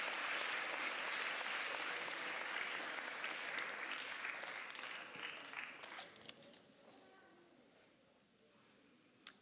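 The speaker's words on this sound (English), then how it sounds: "A big round of applause for the cast and the crew." An audience applauds the cast and crew after an anti-bullying performance, a dense wash of clapping that holds steady, then thins and fades over the last few seconds until only scattered claps remain.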